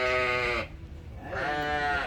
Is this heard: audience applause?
no